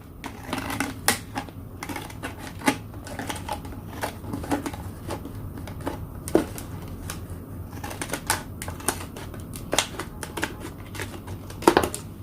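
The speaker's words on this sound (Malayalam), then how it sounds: "അത് കഴിഞ്ഞിട്ട് നമ്മുടെ ഈ സിസേഴ്സ് വെച്ച് നമുക്ക് മുറിച്ചെടുക്കാവുന്നതാണ്" Scissors cut through a plastic bottle being made into a flower vase, a run of sharp crisp snips and crackles at an irregular pace, close and loud.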